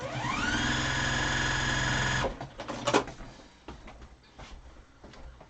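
A sewing machine runs steadily while stitching down the center of a quilt-as-you-go block, its whirring motor loud for about two seconds before stopping abruptly, followed by a sharp click and quieter handling noises.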